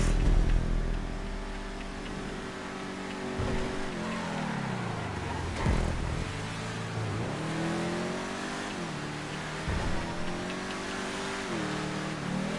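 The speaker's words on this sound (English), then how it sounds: "you can hear my engine short shifting at the earliest opportunity anyway" A race car in GTA V on PS5 revs and short shifts early through the gears, the engine note repeatedly climbing and dropping as it accelerates, loud and close with no talk.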